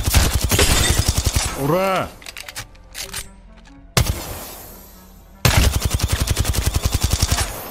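Rapid automatic gunfire from Apex Legends, with bursts of close, loud shots at the start and end and a quieter stretch of clatter in between. Someone speaks briefly partway through.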